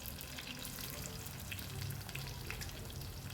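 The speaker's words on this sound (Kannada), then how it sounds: "ಆನಿಯನ್ ಸ್ವಲ್ಪ ಫ್ರೈ ಮಾಡ್ಕೊಂಡಾದಮೇಲೆ" Onion frying in hot oil with mustard seeds, cumin and curry leaves for a ridge gourd stir-fry, giving a steady, close sizzle that runs unbroken and alone for a few seconds.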